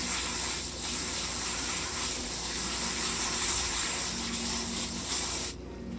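Water sprays from a hose onto a luffa sponge, a loud continuous hiss with slight splashing that cuts off sharply near the end.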